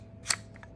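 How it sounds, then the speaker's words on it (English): A single short metallic click-slide as an AR pistol's charging handle is pulled out, close and crisp, followed by a faint smaller rattle, with no talk. "take your charging handle, pull it out"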